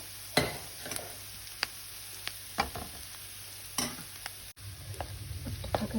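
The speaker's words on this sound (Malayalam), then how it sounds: "ഇനിയിപ്പോൾ നമ്മുടെ ഉരുളക്കിഴങ്ങും കൂടെ ഇട്ട് കൊടുത്തിട്ട് നല്ലപോലെ മിക്സ് ചെയ്യാം" Potato is stirred into a sizzling spiced mixture in a pan, with faint steady frying under a series of sharp spoon scrapes and clinks against the pan at irregular intervals.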